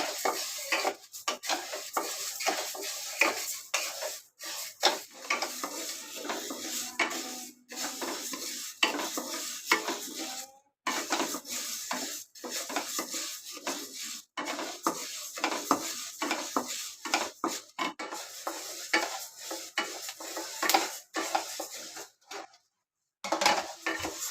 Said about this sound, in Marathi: त्या कढईमध्ये थोडे थोडे टाकायचे, एकदम भरपूर पण टाकायचे नाही आणि भाजून घ्यायचे.